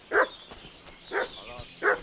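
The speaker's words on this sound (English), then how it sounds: "What's that dog making such a fuss about?" A dog in the Kingdom Come Deliverance 2 game world barks three times in separate bursts, fairly close and clear, with short quiet gaps between the barks.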